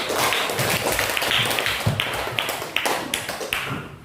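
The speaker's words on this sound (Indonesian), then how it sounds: "Tepuk tangan untuk kita." A classroom of children in Sumbawa, Indonesia claps together in a loose, uneven rhythm. The claps are close and sharp and continue steadily for several seconds with no talking.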